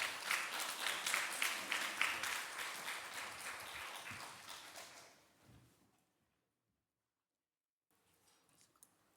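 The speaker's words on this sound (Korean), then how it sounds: "이제 우리 강사님 나오실 때 박수로 환영해 주시기 바랍니다." Church congregation applause welcoming a speaker, a burst of clapping from the congregation that fades out over about five seconds, followed by near silence and a few faint shuffling sounds.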